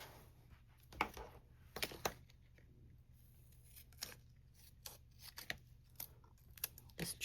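Scissors trim paper for a DIY 6x6 paper storage project, giving a few sharp, close snips spaced out over a quiet background.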